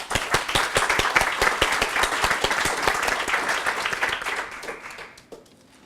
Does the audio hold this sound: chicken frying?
no